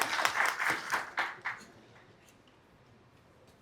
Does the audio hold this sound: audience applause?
yes